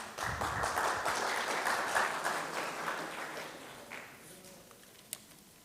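Applause from an audience at the end of a talk starts dense and full, then thins and fades to a few scattered claps, ending with a single sharp clap.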